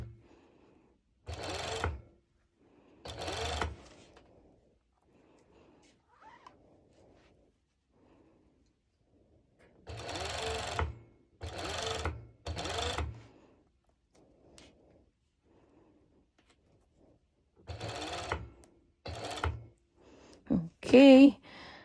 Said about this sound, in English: since I'm top stitching to avoid the waving, I'm slightly pulling the elastic